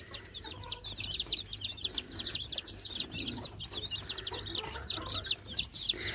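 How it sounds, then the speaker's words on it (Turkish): Many four-day-old chicks cheep continuously in high, rapid peeps while eating, close by, with faint pecking and shuffling underneath. "daha 4 günlük civcivler yiyorlar arkadaşlar"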